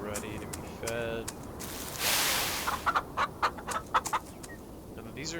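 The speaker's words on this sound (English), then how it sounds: "Chickens are ready to be fed." Chickens clucking in the Farm Together farming video game, several short bursts of clucks in a row, moderately close, with a soft whoosh and speech in between.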